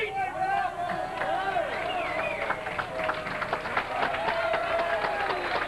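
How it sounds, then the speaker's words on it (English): An audience at a candlepin bowling championship applauds in a steady, dense patter of clapping mixed with crowd murmur that lasts throughout. "Ralph never had so much applause."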